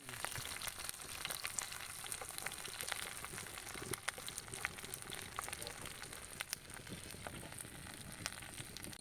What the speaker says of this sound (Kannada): ಬಾರದಿಟ್ಟು ಕಟ್ನ ಮೀನು ನಮ್ಮ ಫ್ರೈ ಮಲ್ಪುಗ